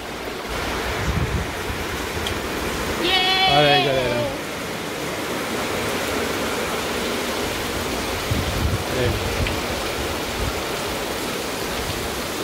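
Rain falls in the Brazilian sertão as a dense, steady hiss with wind, constant throughout, while a brief tonal sound rises in the middle and a person speaks softly at times.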